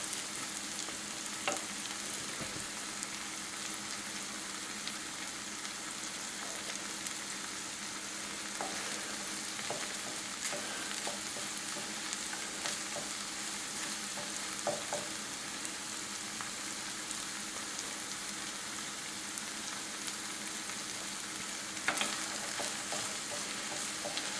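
Eggs cooking in a pan for a chicken ramen dish, with a steady, soft sizzle and occasional light stirring scrapes over about twenty seconds, no talking.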